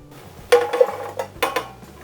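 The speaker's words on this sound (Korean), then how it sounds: "이 차돌을 냄비에 바로 부어줍니다." Thinly sliced beef brisket is dropped straight into a cooking pot for a doenjang stew, giving a few sharp clattering knocks and clinks of metal cookware in a quiet kitchen.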